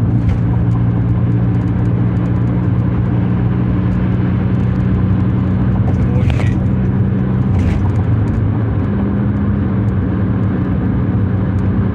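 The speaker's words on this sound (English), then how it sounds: "Traffic." Continuous loud road traffic with a steady engine and tire rumble, as on a long Canadian highway drive, and vehicles swelling past at about six and eight seconds.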